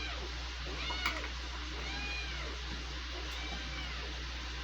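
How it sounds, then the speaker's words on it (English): A cat meows repeatedly in a home kitchen during cooking, its drawn-out, wavering cries rising and falling over a steady low hum, with a faint voice now and then. "That's all you hear is the cat."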